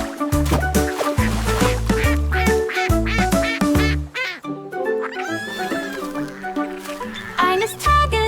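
In a cheerful children's song about a dancing duckling, duck quacks repeat over a bouncy musical backing, steady and loud, mixed with other cartoonish animal-like sounds.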